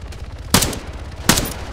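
Two sharp gunshots about 0.75 seconds apart ring out in the ARMA 3 video game, loud and close over a low background hum, with no talking during the shots.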